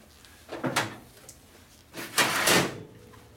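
A drawer slides and knocks back into place in a workshop, two rough scraping bursts about a second apart, fairly close and moderately loud, with no talk.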